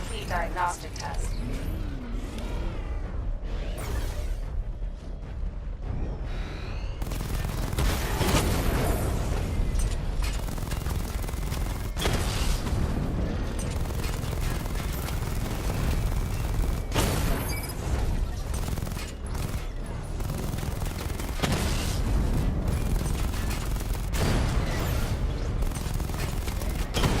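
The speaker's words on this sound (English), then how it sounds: "Charge up missile barrage to level 2 and destroy 4 active targets to complete diagnostic test" Missiles from the Batmobile's barrage in Batman: Arkham Knight fire and explode again and again: loud booms and bursts of rapid fire over mechanical whirring, with a voice speaking in between.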